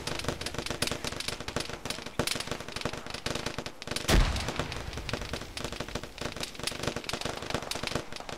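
A frag grenade explodes in Arma with one deep, booming blast midway through, amid constant crackling gunfire and battle noise before and after.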